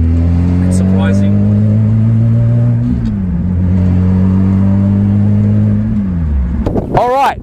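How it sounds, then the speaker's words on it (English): A mid-engine Lotus sports car launches hard, its engine droning loud and close with steady harmonic pitch that dips and climbs through gear changes before a sharp rising rev at the end. "This car actually grips quite phenomenal on a launch, and it's surprising."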